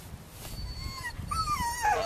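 Great big pony-sized dogs whimper and whine in high, wavering cries that rise and fall, several overlapping over a rumbling outdoor background.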